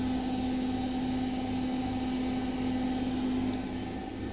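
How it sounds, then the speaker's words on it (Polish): A Bosch washing machine spins badly unbalanced at 1000 rpm, giving a loud, steady droning hum with a strong tonal whine that holds throughout. "I wirowanie 1000 obrotów na minutę."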